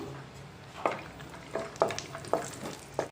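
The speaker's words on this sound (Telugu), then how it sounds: "ముందుగా జీడిపప్పు వేస్తున్నానండి వేసి కొద్దిగా లైట్గా ఫ్రై చేసుకుందాం" Cashews frying lightly in ghee, a low sizzle broken by four or five distinct spoon scrapes and taps against the pan at a steady pace.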